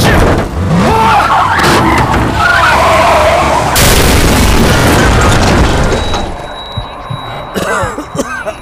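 In the video game Into the Dead 2, a truck crashes loudly with skidding tires and heavy rumbling impacts, followed by a quieter stretch with a faint steady tone and a few scattered sounds.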